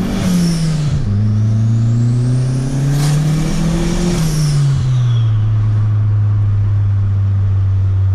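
Opel Kadett GL Turbo with a forged engine, roughly 300 hp and an FT450 setup, revving loudly up close through its exhaust, several rising blips before settling into a steady idle rumble, with no talking.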